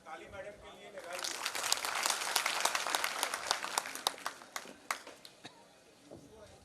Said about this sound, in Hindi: ताली मैडम के लिए लगाइए।